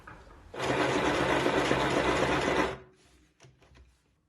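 A sewing machine stitches cosplay fabric in one continuous close burst lasting about two seconds, then stops, leaving a few faint clicks and handling noises.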